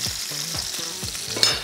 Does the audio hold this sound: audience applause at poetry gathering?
no